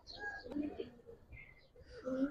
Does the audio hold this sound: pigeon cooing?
yes